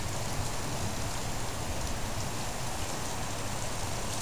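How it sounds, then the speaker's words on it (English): Heavy rain from a rainstorm in Greensburg pours down in a dense, constant hiss of drops striking surfaces, steady and loud with no pauses or voices. "It's pouring."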